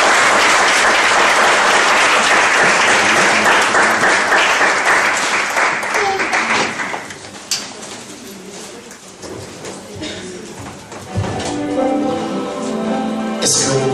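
A church congregation bursts into loud sustained applause and cheering that tapers off, followed by a quieter stretch and a brief renewed swell of clapping and voices.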